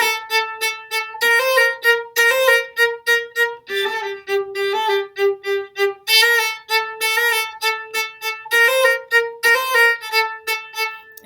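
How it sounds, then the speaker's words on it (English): Violin or viola playing light spiccato bowing in staccato eighth notes from a string piece, crisp bounced notes in a steady pulse, close and clear with no talking. "So it just has that nice light quality to it, nice spiccato bowing."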